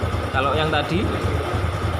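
Honda Revo motorcycle engine idling with the battery disconnected, a steady close low throbbing chug running throughout while someone talks over it.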